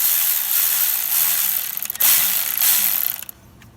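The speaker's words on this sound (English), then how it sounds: "Now we're gonna go ahead and tension the alternator after we put the belt back on." Mechanical ratcheting on an alternator belt being tensioned on a 2006 Kia Rio during alternator replacement, a steady close rasp with brief pauses and a sharp click near the end before it stops.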